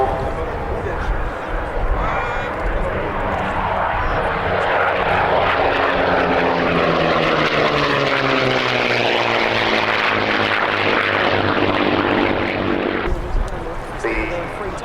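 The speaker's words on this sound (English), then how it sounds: "Mosquito with its Merlin engines." A de Havilland Mosquito with Merlin engines drones past, a loud sustained propeller roar that swells and shifts in pitch, with someone talking over it.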